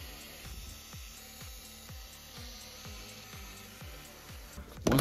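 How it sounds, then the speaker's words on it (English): A T10 Torx screwdriver backs out the rear panel screws of a Marshall Kilburn III speaker, giving a close, steady series of short squeaky turning strokes about twice a second. "Using a T10 Torx screwdriver, we will unscrew the 10 screws securing the rear panel."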